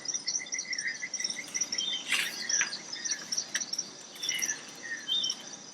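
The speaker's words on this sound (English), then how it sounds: "Up in the trees there's a symphony of sound, chatters and chirps" Dense chorus of insect trills and high bird chirps and chatter, steady and continuous with several calls overlapping, like a humid forest canopy.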